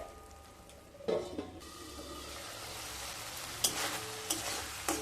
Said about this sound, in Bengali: লো স্টিমে মশলাগুলোকে খুব ভালোভাবে কষিয়ে নিতে হবে।